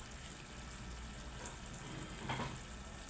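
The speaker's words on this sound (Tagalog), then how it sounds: "Dito na rin natin i-mix yung ating yung ating sibuyas." Faint, steady sizzling from a frying pan as onions are stirred into tuna sisig over lowered heat, with a brief scrape of the stirring utensil near the end.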